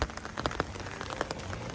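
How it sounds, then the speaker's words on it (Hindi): Heavy rain pouring outdoors, a dense steady hiss of drops striking surfaces with scattered sharper splats, close and continuous with no talk. "हाँ बहुत तेज हो गई है बारिश"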